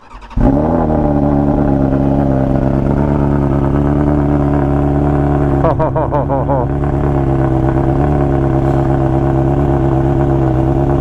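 A 2021 Harley-Davidson Street Glide CVO with a full Akrapovic exhaust cold-starts and settles into a loud, deep, steady idle with a throaty exhaust rumble, close by, with a brief rattly blip midway.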